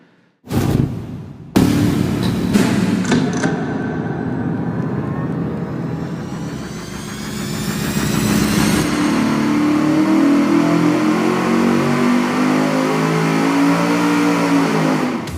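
A car engine starts and revs through a Walker Turbo muffler, rising and holding at a steady loud drone, close by, with no talking.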